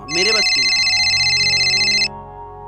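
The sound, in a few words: phone ringtone, incoming call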